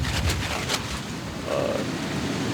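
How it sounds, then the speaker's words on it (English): Strong wind during severe storm weather buffets the microphone with a steady low roar and rumbling gusts, and no voices are heard. "Super windy right now."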